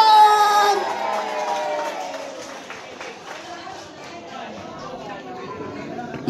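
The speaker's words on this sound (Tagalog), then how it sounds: "parinig nga po ulit ang isang malakas na palakpakan na may kasamang hiyawan!" A crowd at a birthday celebration claps and cheers, with loud whoops and shouting up front that settle into a busy murmur of mixed voices and hand-clapping.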